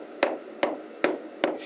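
A hammer drives nails into a board over a stud in a cramped attic, four sharp, evenly spaced blows ringing close and loud with short pauses between.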